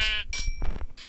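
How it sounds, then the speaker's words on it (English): Sheep bleats from the video game Minecraft, a few short loud calls in quick succession, close and clear, with no talk over them. "Let's kill the sheep."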